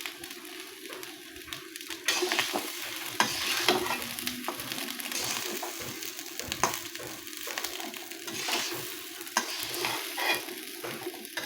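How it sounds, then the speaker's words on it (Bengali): Ginger paste being stirred in a sizzling pan, with intermittent spatula scrapes and bursts of frying that swell after a quieter start, close by, no voices. "আদা বাটাটা ভালোভাবে মিশিয়ে নেব।"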